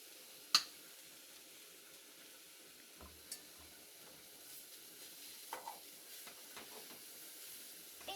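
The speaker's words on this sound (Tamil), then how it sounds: "கொஞ்சம் எண்ணெய் ஊற்றிக்கலாம்." Oil hits a hot pan and hisses as a faint, steady sizzle. A single sharp clink comes near the start and a few soft knocks follow.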